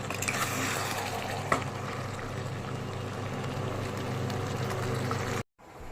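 A mixed vegetable curry is stirred in a pan with ginger-cumin paste, fried spices and ghee, giving a steady, close sizzle and scraping with one brief clink. The sound cuts off abruptly near the end.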